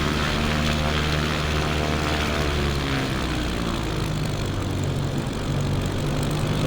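A Cub Crafters light aircraft taxiing, its propeller engine droning steadily and loudly throughout with a constant low harmonic hum, no voices over it.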